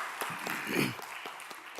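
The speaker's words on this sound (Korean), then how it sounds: "환영의 박수로 환영하도록 하겠습니다" A church congregation at a Sunday worship service in Baltimore applauds to welcome visiting missionaries, a steady burst of clapping filling the room for under two seconds and swelling slightly near the middle.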